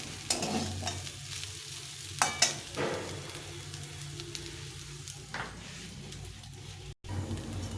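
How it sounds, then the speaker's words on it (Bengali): Leftover rice being stir-fried into colourful fried rice, with a low continuous sizzle under irregular spatula scrapes and clatters against the pan, close and moderately loud. "এটাকে এখন নেড়ে নেড়ে একটু ভেজে নিতে হবে, মানে সব কিছু মিশিয়ে নিয়ে।"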